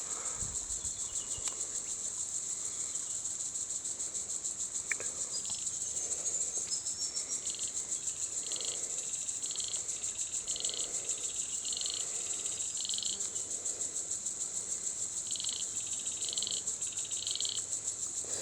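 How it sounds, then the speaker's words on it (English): Cicadas buzz in a steady, shrill wall in the background at Logue Brook, Waroona, with faint pulsing frog calls rising and falling beneath and no one talking. "you can also hear the cicadas in the background."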